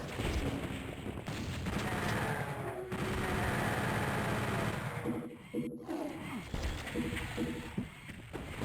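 Rocket fire hits imps in Doom 64 with dense, loud booms and crackling blasts. Short rapid bursts of shots follow, and a voice talks over the din.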